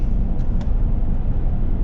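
A 2005 Lexus IS300 with a 2JZ engine and automatic transmission cruising on the road, a steady low engine and road rumble heard from inside the cabin, continuous and even throughout.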